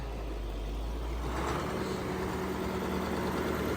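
A Bizon tractor's YaMZ V8 diesel engine running steadily, a loud, deep, continuous rumble that rises slightly in intensity partway through and holds a constant drone throughout.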